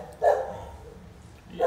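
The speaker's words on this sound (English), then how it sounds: "Is the dog still there?" A dog barking twice from some distance outdoors, two short muffled woofs separated by a pause over faint background noise.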